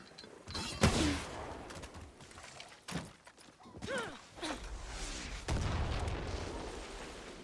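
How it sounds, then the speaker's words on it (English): Close-up explosions in Far Cry 6 thump and crack in several separate bursts, each boom followed by rumbling debris, fairly loud and near with quieter gaps between blasts. "Okay, that explosion looks terrible."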